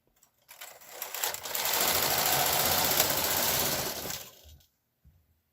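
A knitting machine carriage sweeps across a row of a 2x2 ribbed sweater back, a loud continuous mechanical rattle and whir lasting about four seconds, then a faint click after it stops.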